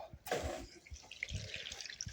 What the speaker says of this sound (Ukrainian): тепер байпас ставимо в крайнє праве положення і пускаємо воду